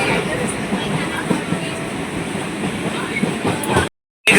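A train running along the Tarakeswar railway line between local stations gives a loud, steady rumble and rattle close by, with the sound cutting out briefly just before the end.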